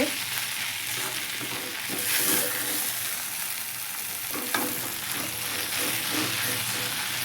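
Bitter gourd peel curry sizzles steadily in a pan over a low flame while being stirred, a loud, close, continuous frying hiss broken by occasional scrapes.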